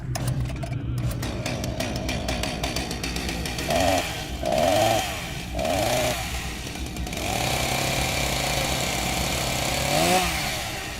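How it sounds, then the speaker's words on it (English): A chainsaw runs steadily and close by for the whole stretch, its buzzing drone rising in a few short revving bursts in the middle and again near the end, with no talk. "First, a chainsaw."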